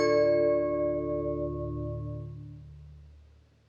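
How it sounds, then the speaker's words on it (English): A music box preset from the Piano Book sample library plays sustained, chiming tones that ring out together and slowly fade away over a few seconds, heard alone. "and I came across this music box, and it sounds like this."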